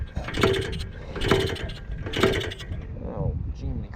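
Someone tries to kick-start a 1978 Kawasaki KD175 motorcycle that has carburetor trouble. Three evenly spaced mechanical kicks clatter up close, each with a short churn, and the engine does not catch.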